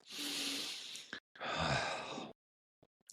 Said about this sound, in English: You can close your eyes, take a breath.